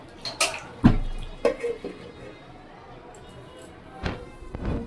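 Metal pot of cooked meat handled on a home stove, a few loud clanks and knocks of cookware spaced apart, with quieter clatter in between.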